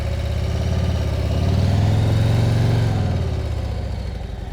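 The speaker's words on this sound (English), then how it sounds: "As soon as the motorcycle starts to move" Harley-Davidson CVO motorcycle pulling away, its deep engine rumble swelling briefly as it starts to move, then easing back while staying close and steady throughout.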